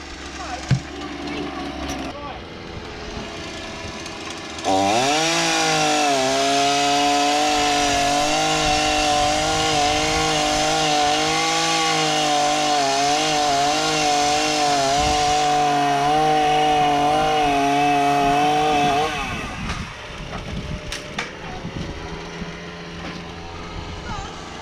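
A chainsaw felling roadside trees runs loud and steady for about fifteen seconds, its engine note wavering as it bites into wood, framed by quieter idling and outdoor background noise before and after.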